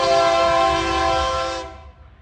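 A rare train sounds a long, loud, steady horn blast while passing close by, the chord holding for over a second before cutting off, with rumbling rail noise underneath.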